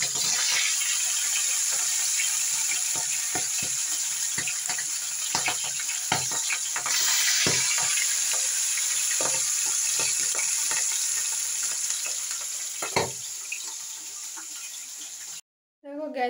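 Fish frying in hot oil, a steady crackling sizzle with scattered pops and spatters, moderately close, ending abruptly.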